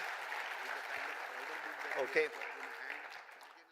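An audience claps steadily at a company foundation day event, with a brief spoken word over the clapping before it fades near the end.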